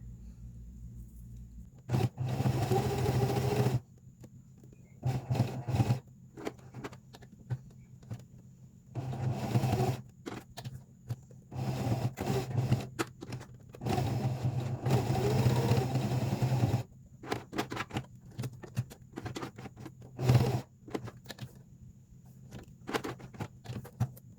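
A sewing machine stitching faux leather crossbody bag pieces, running in repeated bursts of whirring with short pauses between seams, close and fairly loud.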